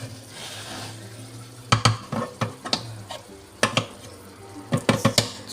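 Frozen meat is mashed and cooked in a pan with vegetables: a steady low sizzle runs under a string of sharp knocks and scrapes as the masher hits the pan, coming in irregular bursts.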